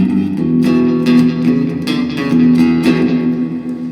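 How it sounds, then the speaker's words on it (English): Clean electric guitar notes are finger-picked through a spacious church-style reverb and a single slapback delay repeat, each note blooming and echoing over a sustained wash of tone. "And then there's like a slapback sound."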